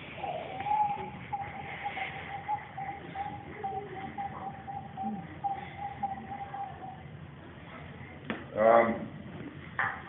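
A Māori instrument imitates the fluttering of pigeon wings, a soft, close whirring with a faint steady tone and a brief louder burst near the end, heard alone in a quiet room.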